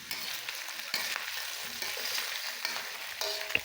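Pork adobo stirred in a frying pan with bay leaves, a steady bright sizzle with scraping spoon strokes against the pan, close and continuous, no voices.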